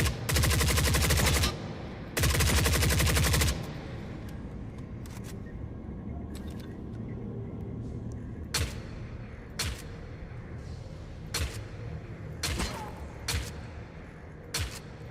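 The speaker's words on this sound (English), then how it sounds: "I just wanted a place to shoot guns." Gunfire in the video game The Forever Winter: two long, loud bursts of automatic fire open the clip, then a run of sharp single shots is spaced irregularly over a low background hum.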